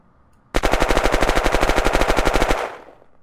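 A secondary machine gun fires in Unturned, about two seconds of rapid, evenly spaced automatic shots, loud and close, ending in a brief fading tail, with no talking over it.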